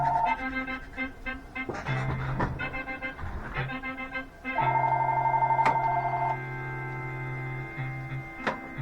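A house phone in a cruise ship cabin rings with steady electronic tones and repeated trilling bursts, fairly loud and close, with no talking over it.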